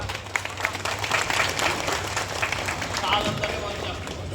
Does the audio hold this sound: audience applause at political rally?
yes